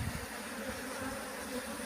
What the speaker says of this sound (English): That 6-frame Nuke is full of bees.